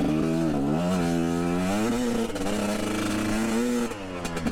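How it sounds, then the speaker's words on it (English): A GPX Moto TSE250R two-stroke motorcycle accelerates under the rider, its buzzy exhaust note climbing steadily through the revs, dipping at a shift, then rising again, loud and close throughout. "power valve must have opened because it jerked forward a little, but it was controllable"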